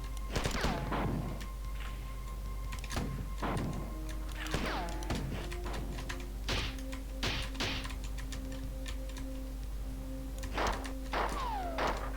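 Gunfire and impacts in the first-person shooter video game Marathon, with irregular bursts of shots, thuds and crashes over a constant low electronic hum, game audio only with no voices.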